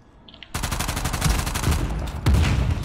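Rapid bursts of video game gunfire erupt near a train, with a dense sustained volley that swells again toward the end, close and loud with no talking.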